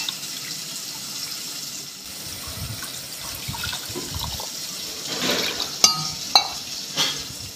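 Water poured from a tap into a pot of lentil ball curry with tamarind water, onion and tomato, a steady running splash that swells toward the end with a few sharp clinks.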